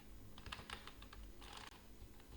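Rapid keystrokes on a computer keyboard while a party name is entered into Tally Prime accounting software, in clustered bursts of clicks with a brief pause, close and alone over a low background hum.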